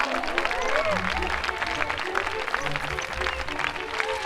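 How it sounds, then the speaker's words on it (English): A crowd cheers and applauds in the Wonderbook: Book of Spells video game, a moderately loud wash of clapping and cheering under a narrator talking over it. "the cheers of the crowd went to Hobart's head"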